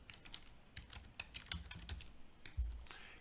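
Computer keyboard typing up close, an irregular run of light key taps with a few heavier thumps, steady and unaccompanied by talk.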